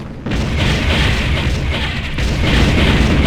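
Loud, continuous rumbling blasts of an enemy structure being destroyed in the real-time strategy game Ground Control, with dense low booms rolling on and building again near the end.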